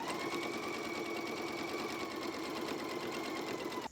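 A sewing machine stitches topstitching with double thread on barrel leg pants, a steady fast mechanical whir running evenly and close up for the whole stretch until it stops at the end.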